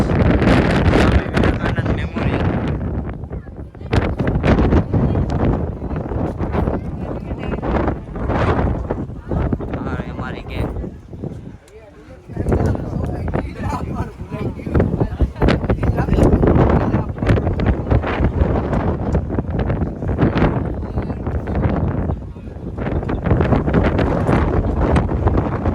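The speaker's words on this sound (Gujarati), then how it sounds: "પવનનો એટલો અવાજ આવે છે ને કે તમે કાંઈ સાંભળી નહીં શકો જોરદાર પવન છે" Strong wind buffets the microphone nonstop with a loud, rough roar while climbing toward an entrance near Rameshwaram, Tamil Nadu. It dips briefly midway, then surges back.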